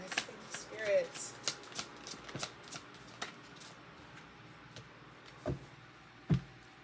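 An oracle card deck is shuffled by hand, giving a run of soft riffling slaps and card flicks that thin out into sparse taps, heard close while a person speaks at times.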